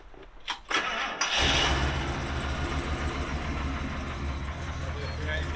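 A 1975 International fire truck's 392 engine with big exhaust cranks briefly, catches and roars to life, then settles into a loud, steady rumbling idle up close.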